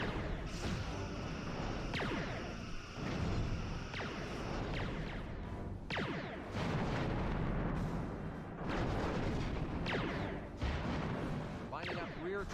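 Phaser fire and weapon blasts from the Star Trek: Bridge Commander starship combat game, repeated loud booming bursts with sweeping tones every couple of seconds over a constant engine rumble, while voices talk.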